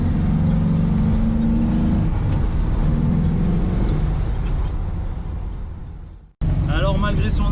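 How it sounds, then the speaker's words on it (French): A loud, steady Porsche 912 engine drone rumbles close behind while driving, a cabin full of mechanical noise with a brief cut near the end. "On entend le moteur, il est juste derrière."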